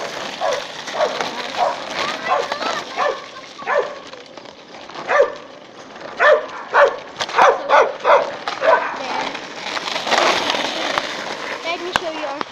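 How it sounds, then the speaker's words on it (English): A dog barks repeatedly in irregular bursts, moderately close, with people talking over and between the barks. "There's a dog barking."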